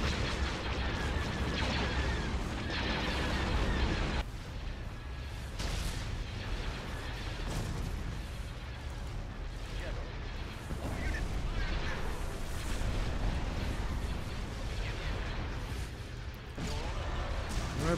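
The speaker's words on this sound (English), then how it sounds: "Fire the lasers! All the lasers!" Laser cannons firing in a Clone Wars mod video game, a continuous barrage of booming blasts and crashes rolling on for the whole stretch, loud and layered.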